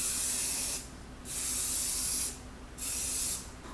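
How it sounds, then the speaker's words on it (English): Hairspray misted onto hair being curled with a flat straightener: three short, close hissing bursts with brief pauses between them, and no talking. "Okay, bit of hairspray."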